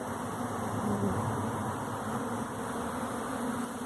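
A swarm of honeybees flies around a new hive, filling the air with a dense, continuous buzzing drone that stays loud and steady from start to finish with no speech.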